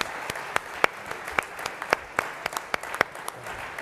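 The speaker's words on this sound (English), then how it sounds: "Let's have a round of applause for this magnificent panel." Faint, sparse clapping from a military summit audience after a panel discussion, with individual claps popping out irregularly over a soft wash of distant applause.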